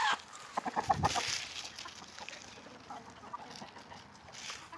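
Chickens being let outside cluck and squawk close by, a few louder calls early on then scattered softer clucks, with rustling and light movement noise around them.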